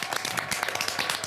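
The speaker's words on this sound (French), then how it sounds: "Applaudissements." A studio audience on a live television show breaks into applause, a dense, even wash of clapping throughout with no voices.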